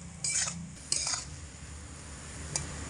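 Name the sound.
stirring semolina in a pan on low heat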